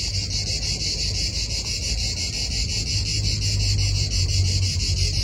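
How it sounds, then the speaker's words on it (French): Cicadas in Italy make a continuous shrill, buzzing drone outdoors, loud and unbroken throughout, with a soft low rumble of background noise beneath. "Vous entendez les cigales?"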